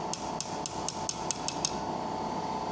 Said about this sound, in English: We're going to use another one of our hammers and our punch